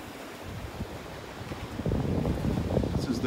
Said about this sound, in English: some pretty big waves pounding the beach